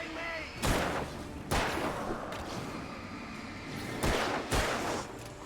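Gunshots fired in the video game Alan Wake: four loud, sharp blasts spaced unevenly over a low game soundscape with faint voice-like sounds in the background.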